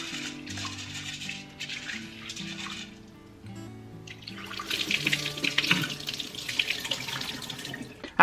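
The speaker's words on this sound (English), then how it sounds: "After going through your peas, it's time to wash them." Tap water runs over split peas being washed in a sink, a steady hissing stream that sits under soft background music, then grows louder and more splashy toward the end.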